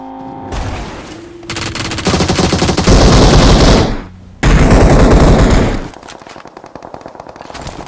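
Rapid automatic gunfire from the BGMI battle royale game, loud dense bursts over several seconds with a brief pause in the middle, followed by quieter scattered shots.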